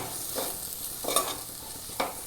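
Spice powders stirred in a pan over a low flame, giving three soft scraping strokes spaced about a second apart, close and quiet with no voices.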